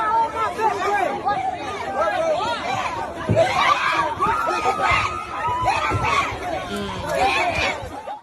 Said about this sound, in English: So there you can hear the screaming, the shouting of all of these hoodlums.